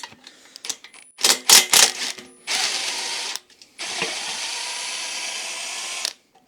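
A ratchet wrench turns a bolt nut on a Honda ATC 250R, giving rapid clicking bursts and then longer steady ratcheting runs, close and loud, with brief pauses between them.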